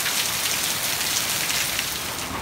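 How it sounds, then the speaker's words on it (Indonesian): Heavy rain pours down in a dense, even patter across a surface, loud and close throughout. "hujannya juga cukup deras nih ya"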